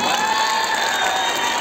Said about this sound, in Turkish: Bence çok büyük alkış hak etti değil mi?